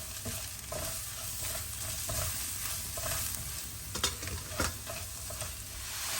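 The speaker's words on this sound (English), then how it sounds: "To that I'll add in my turmeric, and we'll just let that cook off slightly as well." Ginger, garlic, chili paste and turmeric fry in a pan for a giblet curry, with a steady close sizzle throughout and a few sharper scrapes of a spoon stirring. No one speaks.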